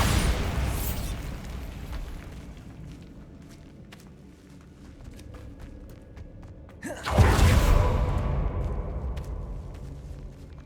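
A Bombarda blasting spell goes off in the Hogwarts Legacy video game, a single sudden loud burst about two-thirds through that decays into rumbling debris after quieter ambient game sounds.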